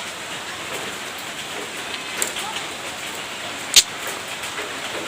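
Heavy rain pours down in a steady, dense hiss, with a couple of brief sharper crackles standing out over the continuous wash.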